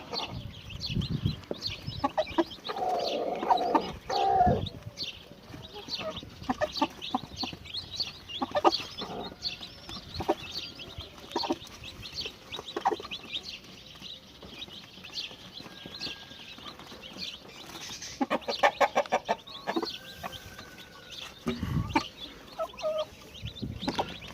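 A hen clucks steadily over a long stretch, with soft scattered peeps and chatter from her five newly hatched chicks filling the background at moderate volume.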